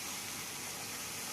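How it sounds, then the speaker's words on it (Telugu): Water gushes into a pan of simmering bottle gourd curry in a steady, continuous pour, close and fairly loud, with no talk. "దీంట్లో ఇప్పుడు మనము వాటర్ వేద్దాం"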